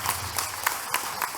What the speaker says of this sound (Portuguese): Irmãos, aplauda mais forte a Jesus, que Ele merece.